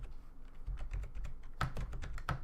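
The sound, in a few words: fast typing on a computer keyboard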